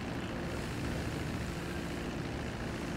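Dodo seaplane in GTA V with its propeller engine droning steadily, a loud dense continuous roar that stays constant throughout without pauses.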